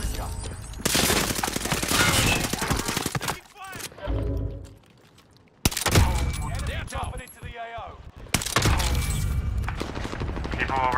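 Rapid bursts of gunfire in a video game sniping match, loud and dense with short pauses between volleys, while voices call out over the shooting.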